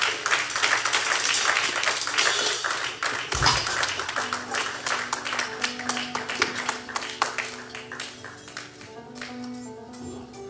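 Church congregation applauding a pastor, dense rhythmic clapping from many hands nearby, steady then thinning, with music tones rising underneath.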